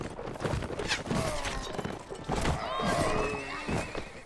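Horse whinnying and hooves clattering amid melee combat in Mount & Blade Warband, with busy crashing and thuds throughout and a game voice briefly over the noise.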